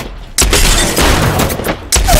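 Gunfire in the video game Apex Legends, dense bursts of rapid shots and booms filling the clip loudly, with a brief gap near the start and a short lull before the shooting resumes.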